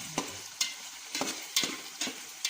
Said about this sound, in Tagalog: Lulutuin po natin ang husto nang maigi yung atay guys, na magiging ganyan siya lahat